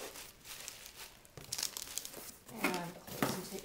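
Cardboard packing is pushed down into a shipping box around a fragile clock, producing loud close crinkling, crunching and scraping bursts that build toward the end.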